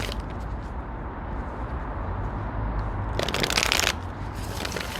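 Tarot cards are shuffled close up, a continuous papery riffle that swells into a brighter, louder flutter of cards near the end.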